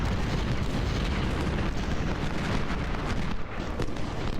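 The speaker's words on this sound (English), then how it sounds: "Our artillery is just firing away," Civil War artillery in the Ultimate General strategy game firing away at Second Bull Run, a continuous rumbling barrage of overlapping booms and blasts with no talking.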